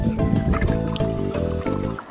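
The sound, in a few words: topping up a car's coolant reservoir with liquid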